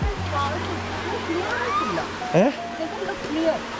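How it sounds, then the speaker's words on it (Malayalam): Water rushing down a walkable waterfall over rocks, a low continuous hiss of flow heard under close conversation. "അത്യാവശ്യം നല്ലതുപോലെ നടക്കാൻ പറ്റുന്ന ഒരു വാട്ടർഫോൾസാണിത്"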